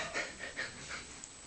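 A nervous little dog pants during a thunderstorm, a run of quick, soft, rhythmic breaths close by and fairly faint, with no talking.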